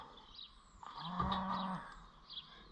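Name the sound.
cow mooing on a farm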